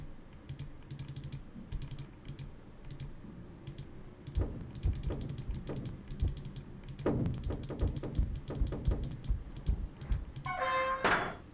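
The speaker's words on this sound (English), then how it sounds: "Call the lift and you can get on it." Lift machinery in Nancy Drew: Treasure in the Royal Tower clanks and ratchets in rapid mechanical clicks and thunks, uneven bursts building in density before ending with a short ringing tone, close and with no speech.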